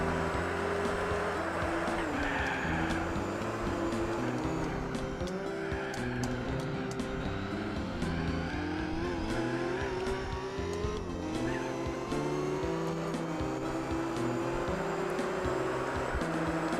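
A Formula GT race car in Gran Turismo 4 pushed hard, its engine holding a loud, steady high-revving whine that shifts pitch with gear changes, continuous and close throughout with no talking.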